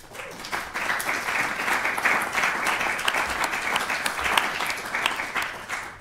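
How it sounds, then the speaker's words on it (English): An audience at a talk on genetic data collection gives a round of applause for the helpers. Dense, steady clapping from many hands fills the room for several seconds without fading. "If you please give them a round of applause."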